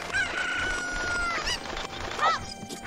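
Rooster-like chicken crowing and clucking in the video game Ocarina of Time, loud and close, with a long drawn call followed by shorter squawks over game background sound.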